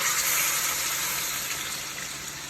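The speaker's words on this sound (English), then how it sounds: "I pour a little water." Water poured onto chicken cooking in a pan for brown stew, giving a loud, steady hiss and sizzle that fades slightly over a couple of seconds, with no talking.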